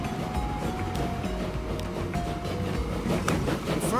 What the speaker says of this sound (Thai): เดี๋ยวขอดูรถไฟนี้